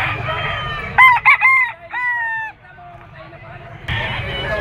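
Gamefowl roosters, among them a yellow-legged, straight-combed young cock, crow loudly at close range in two or three bursts of clear harmonic calls. Steady crowd babble and talk run underneath.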